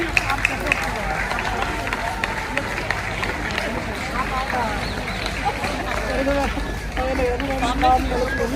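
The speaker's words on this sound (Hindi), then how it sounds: "चित्रलेखा मैम के लिए जोरदार तालियां" Sustained applause from a crowd at a school event honoring a teacher, a dense, continuous patter of many hands clapping with steady crowd noise throughout.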